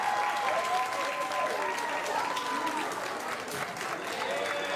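Audience applause for designers at a streamer fashion show, dense steady clapping from a large crowd, with a whistling tone and faint voices mixed in, sustained throughout.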